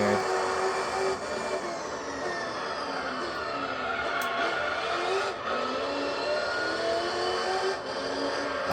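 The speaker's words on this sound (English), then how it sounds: "I like the sound of this car" A car engine revs hard and sustained, its pitch rising and falling through gear changes with brief dips, loud and close throughout with no talk.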